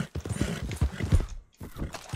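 A stolen horse in the Red Dead Redemption 2 video game clip-clops with loud, close hooves and lets out whinnies, its rhythmic hoofbeats breaking briefly before resuming.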